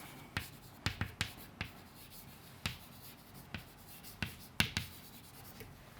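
Chalk or marker strokes on a board during a Class 9 science lesson, a series of sharp taps and short scrapes spaced irregularly, moderately close, with no talking.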